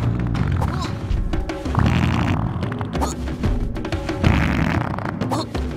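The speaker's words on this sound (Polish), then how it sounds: "Czyli tak jak dobrze słyszałem, że ktoś pierdzi." Fart sound effects in the Mini Ninjas video game, low rumbling bursts mixed into dense game music and effects with no clear gaps, fairly loud throughout.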